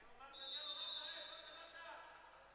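Referee's whistle at a women's Serie A handball match, a single sustained blast of about one second, moderately distant over a quiet indoor arena murmur.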